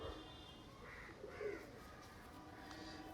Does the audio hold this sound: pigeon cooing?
yes